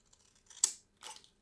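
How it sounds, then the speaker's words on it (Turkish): Scissors snip through paper twice while a junk journal is being made, each cut a short, crisp, close rustle separated by a brief pause, with no talking. "O yüzden şunu şöyle şuradan güzelce bir keseceğim."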